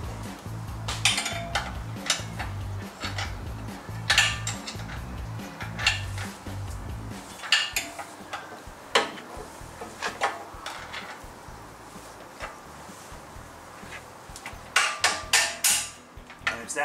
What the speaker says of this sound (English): I like to use a mallet, a little rubber mallet, to just tap it in once you see it line up